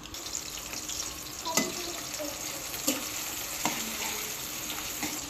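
Chopped onion sizzles steadily in hot cooking oil at close range, a continuous frying hiss broken by a few sharp stirring knocks and scrapes, with no voices.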